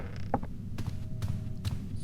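A door creaking open in the horror game Doors, a short strained creak with a couple of soft knocks and clicks against a low ambient hum, fairly quiet.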